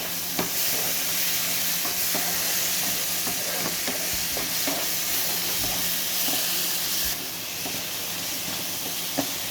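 Tomato and puti fish masala sizzles in a pan while it is stirred, a constant frying hiss broken by repeated scraping and tapping strokes of the spoon against the pan, close and fairly quiet.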